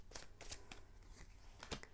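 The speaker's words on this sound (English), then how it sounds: "Then we're going to shuffle those and further the message." A deck of tarot cards is shuffled during a card reading, giving quiet papery riffling and snapping bursts in an irregular rhythm, close and soft, with no talk.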